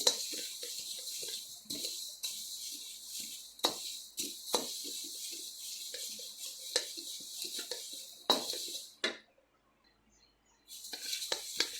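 Coriander seeds and cumin dry roasting in a pan for curry leaf powder, with repeated scraping and clinking of a utensil against the metal and small rattles of the seeds, close and fairly quiet, pausing briefly near the end.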